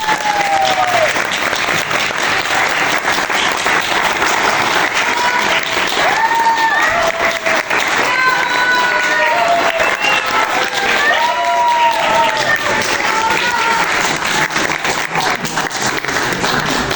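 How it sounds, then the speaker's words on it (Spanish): Audience applause at a book presentation, a dense, steady wash of many hands clapping that holds at full strength for the whole stretch, with some crowd murmur and cheering mixed in. "¡Fuertes palmas para él!"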